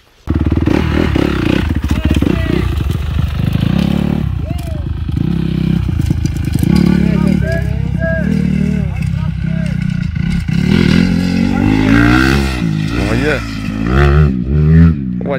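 Honda CRF 250R motocross bike on a muddy off-road track, loud close engine revving with repeated throttle blips and rising, falling pitch throughout, with talk mixed in.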